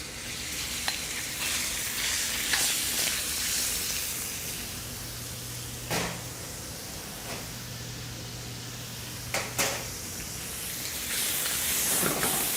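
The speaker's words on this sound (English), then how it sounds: "So I'm going to add the pork to the pan." Pork cut into small pieces frying in oil in a wok, a steady broadband sizzle with occasional stirring clatters and sharp pops, close and continuous with no talking.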